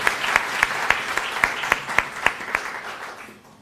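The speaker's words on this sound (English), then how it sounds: "Can we give them another round of applause, please?" Applause at a university ICDL graduation ceremony, a steady wash of clapping with distinct sharp claps at a regular beat, fading slightly at the end.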